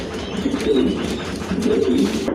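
Giribaj pigeons with jalsa eyes coo nearby, two soft, rolling coos repeating in quick succession.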